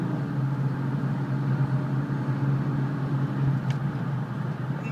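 Steady engine drone and road noise from a 2000 Ford Explorer Sport 4x4 with a 4-liter six-cylinder, heard from inside while driving, a continuous low hum at moderate level without talk.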